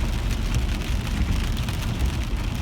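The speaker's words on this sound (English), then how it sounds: "Just enjoying the rain out here." Heavy rain pours steadily outdoors near Camarillo, California, during a severe autumn thunderstorm, a dense continuous hiss and patter with a deep low rumble underneath, close and unbroken throughout.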